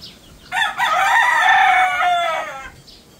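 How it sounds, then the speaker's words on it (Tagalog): A rooster crows loudly and close by in the afternoon, one long drawn-out call, with faint clucking from other chickens around it. "Yan mga manok natin tuwing hapon."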